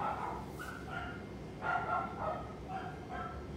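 Five-week-old puppies bark and yip in short, high-pitched bursts, several squeaky yaps scattered across the moment at close range, with no talking over them.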